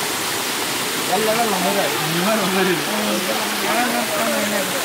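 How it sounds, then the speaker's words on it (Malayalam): Steady, loud rushing of a waterfall in Chimmony Wildlife Sanctuary fills the scene, with a person talking over the roar for most of it. "വെള്ളച്ചാട്ടത്തിൻ്റെ സൗണ്ട് കേൾക്കുന്നുണ്ട് കേട്ടോ"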